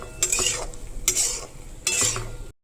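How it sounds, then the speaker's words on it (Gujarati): Turmeric being mixed into mung beans in a pan, three close scraping strokes of a spoon across the pan with a faint sizzle underneath, each rasp lasting about half a second before stopping abruptly. "પછી તેમને સરખી રીતે મિક્સ કરી દેવાનું"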